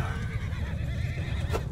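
A horse neighs loudly in the Mount & Blade II: Bannerlord video game, a sustained whinny over a dense battle-like rumble, with a short bright sound near the end and no voices.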